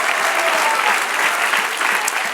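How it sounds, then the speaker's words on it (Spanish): A church congregation claps together in sustained applause, a dense, loud and even patter of many hands that fills the room. "Denle un aplauso al Señor."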